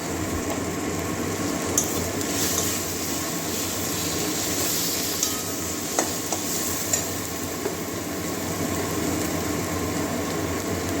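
Cumin and coriander seeds frying in hot oil in a pan for a Bengali katla fish curry with potato and pointed gourd, a steady close sizzle and crackle running throughout with a few sharp pops, no voices.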